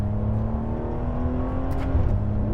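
A Ferrari 599 GTB V12 pulls in third gear under manual mode from about 43 mph, its engine note rising steadily and loudly up close, with a brief shift-like dip near the end.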